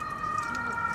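An ambulance siren sounds as a steady, sustained electronic wail heard continuously at moderate distance, with some background noise.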